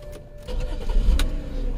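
The engine of a 2011 BMW with a jump pack attached cranks briefly and catches, quickly settling into a close, rumbling idle.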